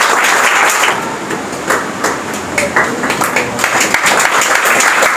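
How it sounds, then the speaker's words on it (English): A room full of students and teachers claps for competition winners at an English academy, a loud, busy patter of many hands that dips slightly midway and then swells again. "Clap for them."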